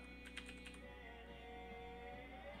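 Quick burst of computer keyboard typing, a few fast close keystrokes early on, then a quiet room hum with no talk.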